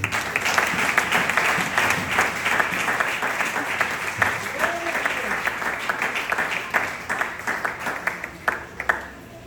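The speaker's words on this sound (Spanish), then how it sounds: "un aplauso al rey" A crowd applauds in a dense burst of clapping that thins toward the end into scattered individual claps, with some voices mixed in.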